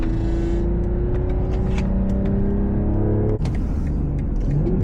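A BMW M340i engine hums steadily while driving, a close, continuous drone whose pitch holds and then dips slightly, with a brief break partway through and light clicks over the top.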